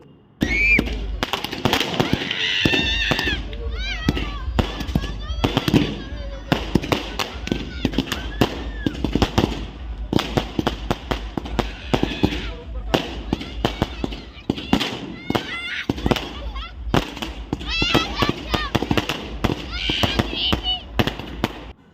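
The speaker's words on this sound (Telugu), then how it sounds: "సో క్రాకర్స్తో ఫుల్ సెలబ్రేషన్స్ అనమాట పెద్ద పెద్ద సౌండ్లు పెట్టి" Firecrackers burst in rapid, dense crackling volleys at an outdoor wedding celebration in a garden, loud and nearly continuous for the whole stretch, with a few louder pops standing out.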